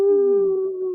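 A wolf holds a single steady, tonal howl, loud and clear, sustained for under a second with no other sounds around it.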